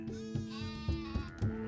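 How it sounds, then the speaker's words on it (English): Sheep in the colony-building game Songs of Syx bleat in a quick series of short, nasal calls, fairly close and clear, with no voices over them. "Oh, those are not people, those are sheep!"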